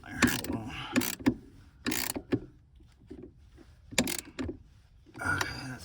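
A battery clamp being tightened on a 2009-2017 Chevy Traverse, giving several close, loud bursts of metallic ratcheting and clanking separated by short pauses.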